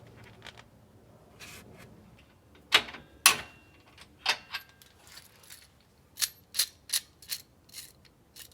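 A hand ratchet clicks in quick, close, uneven runs while loosening bump stop bolts on a vehicle.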